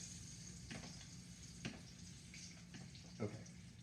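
Salmon piccata cooks in a pan with a faint, steady sizzle, a few soft clinks and scrapes popping up now and then, quiet and close with no voices.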